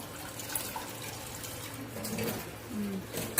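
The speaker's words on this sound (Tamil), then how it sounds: "தண்ணி பிடிச்சாச்சு." Tap water running into a container in a home kitchen while preparing egg cutlets, a soft steady stream with faint splashing and rising pitch as it fills, fairly quiet.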